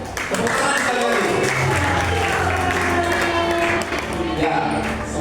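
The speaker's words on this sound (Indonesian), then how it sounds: "tepuk tangan sekali lagi" Audience applause at a charity cosplay event at an orphanage, steady clapping from a crowd sustained for about five seconds, loud and dense with a slight dip near the end.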